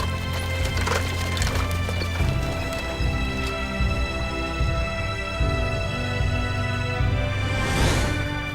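Hoofbeats of the French trotter Meaulnes du Corta, a rhythmic clip-clop with an occasional whinny, steady and fairly close over a broad rumbling background.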